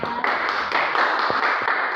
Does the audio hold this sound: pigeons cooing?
no